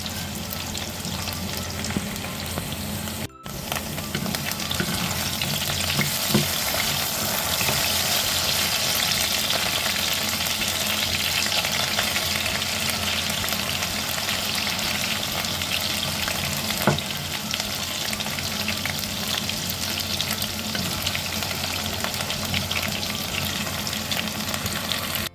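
Carrots and potatoes fry in a pan toward light brown, a dense loud continuous sizzle that holds evenly for a long stretch, with only a faint occasional clink and nobody speaking.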